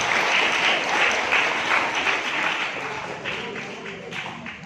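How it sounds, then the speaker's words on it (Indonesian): A crowd at an Islamic boarding school celebration of the Prophet's birthday applauds, with loud, dense clapping that starts full and gradually thins and softens toward the end. "tepuk tangan buat kita semua"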